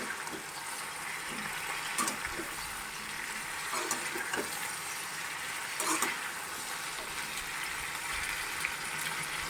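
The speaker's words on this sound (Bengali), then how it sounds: "বেশ অনেকক্ষণই ভাজা ভাজা করে নিলাম" Malabar spinach frying over low heat in a pan makes a constant hissing sizzle, with a few scraping stirs and soft knocks at intervals, fairly close and without any talking.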